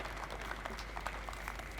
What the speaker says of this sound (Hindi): मैं जोरदार तालियों के साथ में उनका अभिनंदन